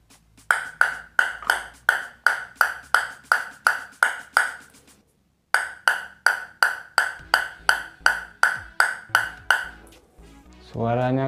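A ball tapped repeatedly on a Lion ONI OFF+ paddle with an aramid carbon face gives crisp, dry, evenly spaced ticks, about a dozen in a row, then a short pause and another steady run, ending as a voice starts.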